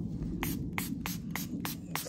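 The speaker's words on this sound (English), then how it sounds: "But let's spray some on her hair." Baby-powder-scented spray misted onto a doll's curly hair, about six short, soft hissing bursts in an even rhythm, quiet and close.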